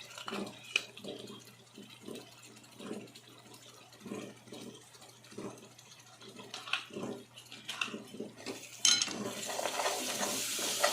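Curd being stirred into a pan for egg dum biryani, with soft scraping strokes repeating in an irregular rhythm over a quiet simmer, then a brighter, louder sizzle near the end.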